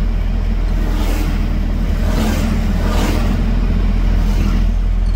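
A tractor engine runs nearby on a road in the Vavuniya–Kilinochchi area of Sri Lanka, a steady loud low rumble throughout with a few swelling passes, no talk over it.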